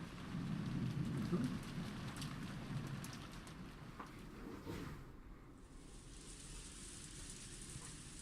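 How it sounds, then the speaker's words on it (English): Steady rain pours down in a dense, continuous hiss, heavier at first and then easing to an even patter. "Love this rain."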